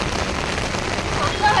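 Rain falls in Darjeeling, a steady dense hiss of drops on surfaces close by, brief and continuous, with a faint voice near the end.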